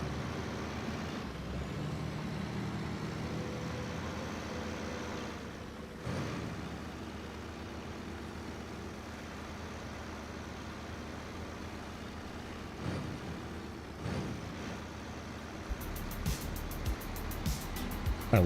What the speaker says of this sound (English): It just belches freaking black diesel smoke out of both stacks. And like, sounds great.